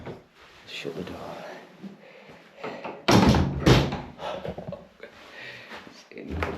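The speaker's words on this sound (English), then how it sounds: "Shut the door." A door thuds shut nearby, giving a sharp, heavy bang among rustling and movement, while people talk quietly around it.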